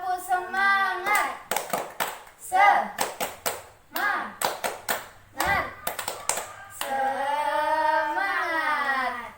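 Fourth-grade schoolchildren clap in rhythmic patterns in a classroom, bursts of sharp claps alternating with a teacher and children chanting and speaking between them.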